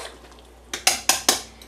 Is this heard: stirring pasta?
yes